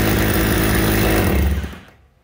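A used 220V electric hammer drill running in concrete drilling mode roars with a loud, steady motor whine for about two seconds, then spins down and fades out.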